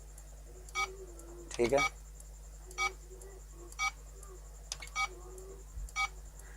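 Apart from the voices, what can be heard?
security device tamper alarm beeping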